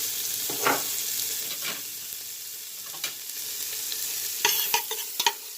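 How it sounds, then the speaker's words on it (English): Chopped white onion sizzles in a pot, a soft continuous hiss broken by occasional stirring scrapes and a few sharp clinks near the end, with no one speaking. "So add some chopped white onion to it."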